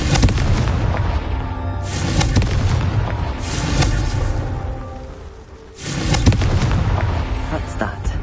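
The Confringo blasting spell goes off in a Harry Potter video game, a series of loud booming explosions with rumbling tails, near and heavy, separated by short lulls.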